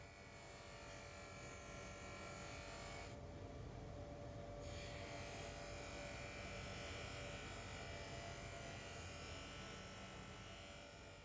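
Knife blade being worked on polishing wheels with cutting and then polishing compounds at a cutlery workshop, heard as a steady close motorized buzz and grinding whir that continues throughout, with a brief shift in tone partway.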